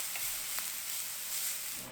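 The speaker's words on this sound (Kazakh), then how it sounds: "Сәл қуыру керек." Chopped onion and grated carrot frying in oil in a pot for bean soup, a soft, faint continuous sizzle with a few small pops and stirring clicks.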